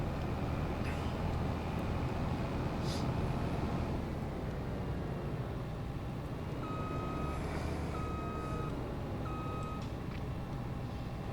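Reversing beeps sound as a vehicle, likely a truck in a farming or logging video game, backs up to park in a grass field; short evenly spaced beeps ring out over a steady engine rumble.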